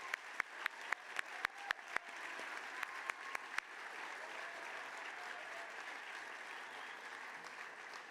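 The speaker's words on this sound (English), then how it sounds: "Please give them a round of applause." Applause from a large gala audience, starting with a few sharp individual claps and swelling into a steady, even wash of clapping that carries on.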